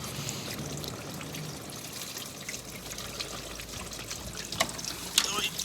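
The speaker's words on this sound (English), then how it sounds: "We can sort of see there that dripping starting to occur." Water poured down a Ford Mondeo door membrane trickles and drips inside the door, a steady faint wet patter with a few sharper drips near the end, close by under background noise.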